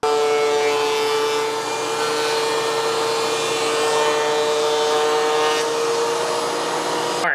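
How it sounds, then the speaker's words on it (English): A loud, steady electric planer roar with a sustained high whine runs without pause for several seconds as it planes a wooden 2x4, close and continuous, with no voices. "so we're gonna plane it"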